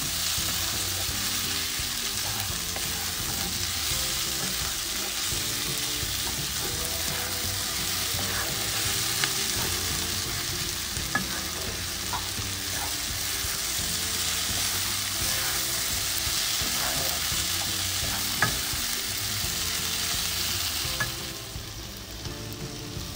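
Baby corn frying lightly in a pan for home-made kung pao chicken, an even, loud sizzle with intermittent clacks of a spatula stirring, quieting abruptly near the end.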